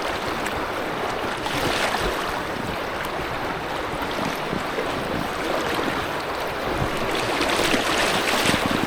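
Rushing river water churns steadily around an Aquaglide Deschutes inflatable kayak held in rapids on the River Don, a continuous broadband wash of splashing and roaring flow close up, with no voices.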